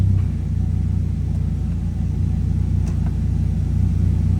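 A Viper truck idles with a loud, steady low rumble while the four-speed automatic transmission is cycled through its gears in a garage, with no voices.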